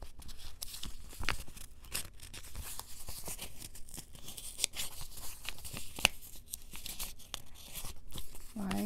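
Matte paper being torn by hand, a series of close, dry ripping and crinkling bursts repeated over several seconds with no talking.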